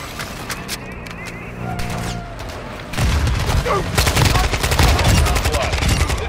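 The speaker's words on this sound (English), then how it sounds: "Our mortar strike is inbound." Mortar strike in Call of Duty Modern Warfare II DMZ, heavy bursts of gunfire and explosions crackling loudly after a quieter opening, with voices talking underneath.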